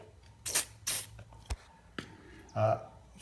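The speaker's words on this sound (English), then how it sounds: "just take some WD-40 and you spray it on the petcock" Short hissing bursts of WD-40 sprayed onto a 50cc motocross bike's fuel petcock, two close puffs followed by a few clicks and a later third spray, all near and fairly quiet.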